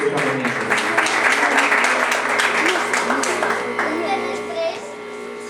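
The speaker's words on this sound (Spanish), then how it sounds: "fuertes aplausos a la niña Jocelyn Colón" Applause at a wedding in Cantel, Guatemala, for a young girl: a dense patter of clapping over steady sustained tones, with voices talking through it before it thins toward the end.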